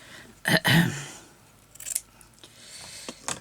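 Scissors snip through sewing thread after a back stitch on fabric scraps, a couple of close, sharp cuts early on followed by faint handling clicks and rustles of fabric.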